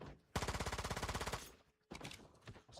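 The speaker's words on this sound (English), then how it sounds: "Burn through them bullets." Rapid machine gun bursts in the survival shooter Once Human, one steady loud stream of evenly spaced shots lasting about a second, then a short pause and a few more scattered rounds.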